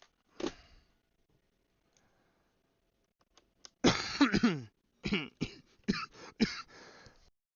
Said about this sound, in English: Started having a coughing fit.